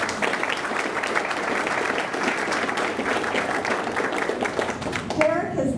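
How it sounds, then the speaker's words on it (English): An audience at a digital marketing talk gives a speaker a sustained round of applause, dense and even throughout, with a few voices mixed in near the end. "Before we go on to questions, a huge round of applause for Derek."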